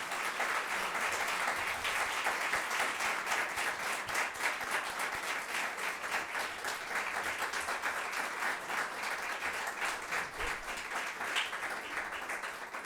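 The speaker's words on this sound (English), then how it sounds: "I want to invite us all to give a really big round of applause to our distinguished panelists." An audience applauds panelists at a racial justice and courts panel event, with steady, moderately distant clapping from a room of people sustained for about thirteen seconds.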